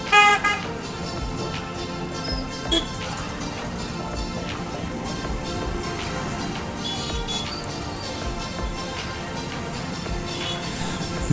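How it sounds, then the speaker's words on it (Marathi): Busy road traffic on the Wai–Panchgani road, with car horns honking: a steady dense roar of vehicles, a loud horn blast at the start and more tooting scattered throughout. "त्यामुळं इतकं ट्रॅफिक होतं आहे"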